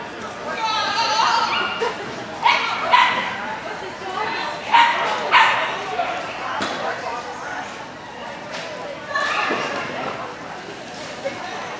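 A heavy dog barks and whimpers in short, repeated bursts at moderate distance, with yips between, while people talk nearby throughout.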